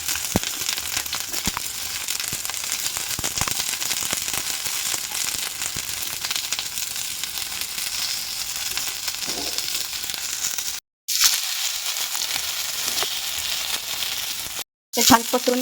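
Slices of green tomato sizzle in oil on an iron griddle, giving a steady, dense crackle at moderate loudness throughout, with two brief drops to silence near the end.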